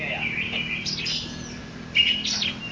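A songbird at a bird singing contest gives bright, high chirping phrases in two bursts, close and clear over a low background hum.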